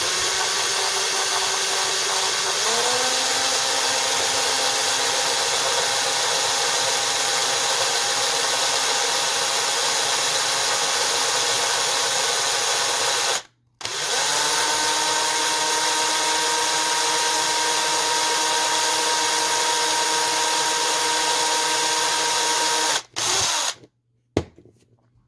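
A power drill fitted with a tiny bit bores into a Matchbox No 38 Vauxhall Victor Estate Wagon model car, whining steadily for about thirteen seconds, cutting out briefly, then running again before stopping.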